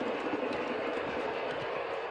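A heritage tourist train hauled by locomotives rolls along the rails in a steady, continuous rumble, with no voices.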